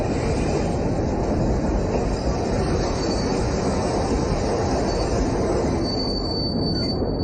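Passenger train rumbling along in heavy rain as a drama sound effect, a loud continuous roar of wheels on rails with a high squeal creeping in toward the end, no voices.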